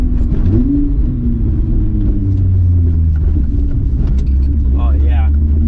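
A Volkswagen MK3 with a VR6 engine drives a lap with a loud, continuous low engine rumble close to the microphone, with a person talking over it throughout.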